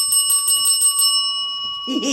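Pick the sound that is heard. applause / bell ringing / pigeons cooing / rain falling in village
bell ringing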